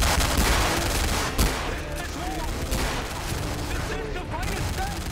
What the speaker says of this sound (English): Holy shit, it's a minigun.